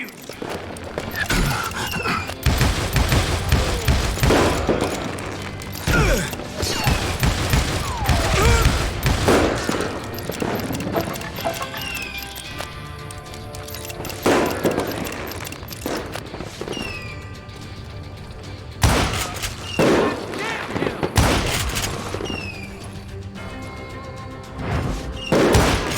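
Gunfire in the Call of Juarez Gunslinger western shooter, loud bursts of shots and booms scattered throughout amid game effects and music, with no talk.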